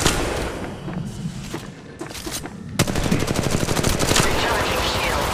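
Gunfire in Apex Legends Mobile: scattered shots at first, then a sudden sustained rapid-fire burst of automatic weapon fire, loud and close, continuing to the end.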